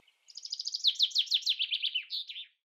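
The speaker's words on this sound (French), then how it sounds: "Entendez-vous le chant des oiseaux?" A bird sings one bright, rapid phrase of about a dozen quick chirped notes that rise and then fall, clear and close against complete silence.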